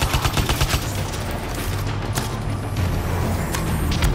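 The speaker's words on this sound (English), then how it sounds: "Bloody turret." Rapid turret gunfire in the Tyrant Mine Stronghold game, a dense, loud, continuous burst of shots with booming low end that keeps going throughout.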